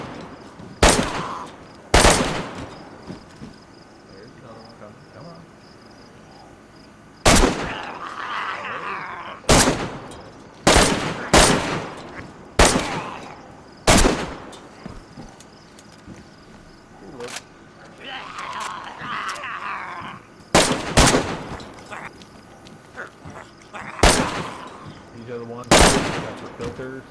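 Video game gunfire as enemies are shot: loud single shots and short bursts spaced irregularly, with quieter stretches and faint voices between them.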